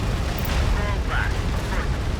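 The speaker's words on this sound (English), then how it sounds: "Artillery fire on our position." Artillery fire in Tom Clancy's EndWar, a steady rumbling barrage of low booms and blasts that fills the whole clip, with a faint radio-style voice heard briefly over it.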